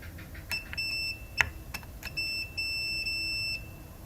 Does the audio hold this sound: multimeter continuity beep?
yes